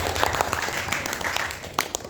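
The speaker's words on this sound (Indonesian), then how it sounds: "Tepuk tangan untuk kelompok 2." A classroom of students claps for a presenting group, with brief, fairly soft scattered applause under a noisy room and a few voices.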